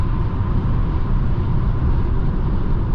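Steady low road rumble and broadband traffic noise heard from inside a 2022 Nissan Sentra, with trucks passing close alongside; continuous and fairly loud throughout, no talk.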